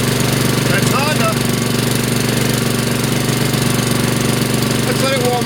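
A Honda engine on a machine runs steadily after a cold start, loud and close with a rapid rhythmic knocking chug throughout and brief voices at moments.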